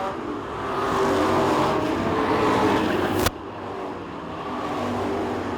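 Street stock race cars roar past on a dirt oval at a world championship heat race, a loud sustained engine drone swelling and fading with a sharp crack midway.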